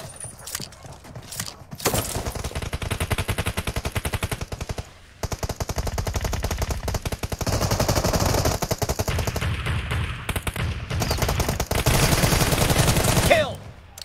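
Sustained M416-style automatic gunfire in a PUBG Mobile 4v4 firefight: long rapid bursts of loud, close shots, briefly broken by short pauses, with faint voices now and then.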